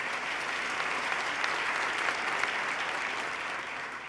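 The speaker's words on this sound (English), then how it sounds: "Let's give him another round of applause, Mr. John Mack." An audience applauding during New York's State of the State address: a continuous wash of many hands clapping, dense and sustained at a moderate level throughout, with no speech on top.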